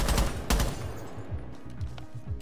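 Shotgun blasts in the tactical shooter Rainbow Six Siege: two loud, booming shots about half a second apart, followed by lower rumbling game noise with no voices.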